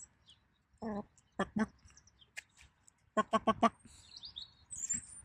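Scattered bird chirps and tweets in a quiet outdoor garden onion patch, a few short bursts of calls with gaps between, fairly close.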